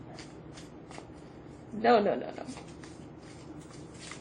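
A deck of mermaid tarot cards being shuffled by hand, a short riffling burst in the middle of a quiet room, with a voice speaking briefly around it.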